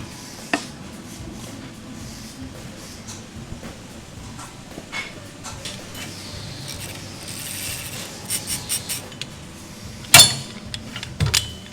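Tools working under a car while the tail shaft is removed to change the diff ratio: scattered metallic clinks and clunks, with a sharp loud clatter near the end, over a quiet background.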